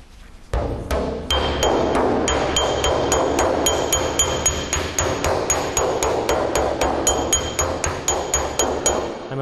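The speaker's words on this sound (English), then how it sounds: "we just give it a little bit of hammer-on dolly blows in the area where it needs it" Rapid, steady metallic hammer-on-dolly blows on a car hood ring out one after another, sharp clinks with a bright ringing edge, close up and loud.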